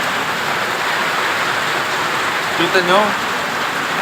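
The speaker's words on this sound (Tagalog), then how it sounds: "Lakas ng ulan" Heavy rain pours down in a steady, dense hiss, with a brief spoken question partway through.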